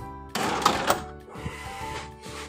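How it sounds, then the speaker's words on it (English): A POS cash drawer springing open and a receipt printer printing, with a clunky mechanical burst followed by a steady whirring feed and a few clicks, close by. "My cash drawer opens automatically and my receipt prints out on the receipt printer."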